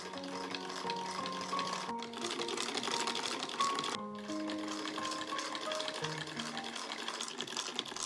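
A sewing machine stitches a ruffle onto a Victorian petticoat, running steadily and close with a continuous mechanical whir and rapid needle ticking, pausing briefly twice before carrying on.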